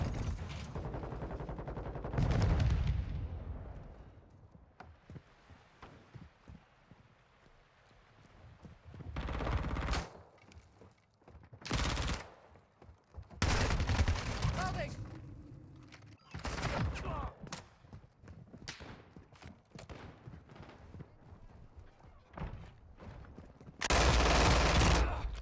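Bursts of gunfire ring out in the Call of Duty Modern Warfare 2 video game, with scattered bursts of automatic fire and single shots separated by quieter gaps, some loud and close, others fainter.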